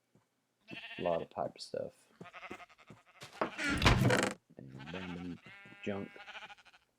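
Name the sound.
sheep bleating in video game sheep breeder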